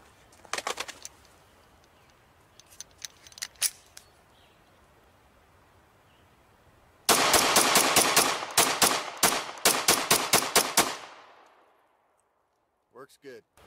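A Ruger Security 9 pistol fires 115 grain 9mm rounds outdoors, about a dozen sharp, loud shots in a fast, fairly even string after a few scattered earlier reports, with a brief quiet tail.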